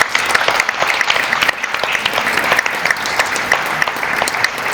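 Loud, dense audience applause for award winners at a San Isidro prize-giving ceremony, sustained clapping from start to finish with no voices over it.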